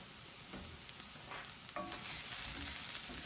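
Shakshuka sizzles steadily in a frying pan while being stirred, with a few soft scraping and clinking touches of the spoon against the pan through a constant hiss.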